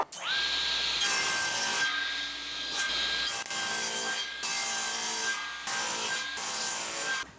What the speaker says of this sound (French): je refais un petit peu de rabotage